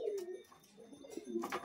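Giribaj pigeons coo softly in short, low, throaty phrases after release, a few calls close by with faint rustling between them and no talk.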